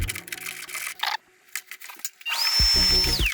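A power tool working a rusty screw out of a car footrest on a flatbed, with scraping and short bursts, a pause, then a steady high whine from about two and a half seconds to the end.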